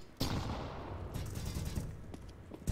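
Gunfire in a tactical shooter video game: a sharp shot followed by a rattle of rapid fire and further cracks, fairly faint and alone with no talking.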